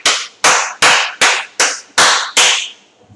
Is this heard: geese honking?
no